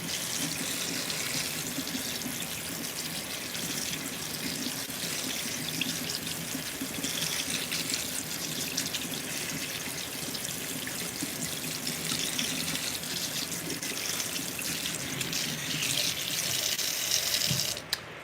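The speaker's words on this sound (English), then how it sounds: "Gonna rinse them a little more now." Scallops rinsed under a running kitchen tap, a steady, close rush of water splashing into the sink that continues almost without pause, with no voices.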